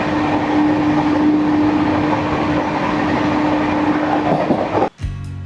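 The Saraighat Express, a Howrah to Guwahati passenger train, rumbles loudly and steadily along the rails with a constant droning tone, then a sharp jolt and clatter near the end, with no voices.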